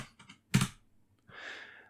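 Keys on a computer keyboard tap out an ssh-keygen command, a few quiet close clicks followed by one louder keystroke and a brief softer rattle, heard alone in a quiet room.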